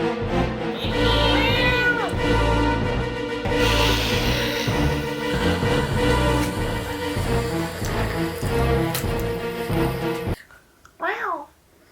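Cat meowing over loud music and talk, a couple of drawn-out meows standing out near the end once the music cuts off, earlier cat sounds partly buried under the busy soundtrack and voices.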